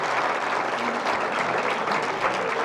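Listeners at a lecture on the Renaissance in Albacete applaud, a short stretch of steady, dense clapping from a crowd at even loudness.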